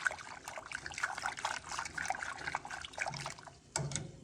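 Water pours into maize meal (cornmeal) as about two cups are added, a steady close trickle and splash that runs almost continuously, dips briefly near the end, then picks up again.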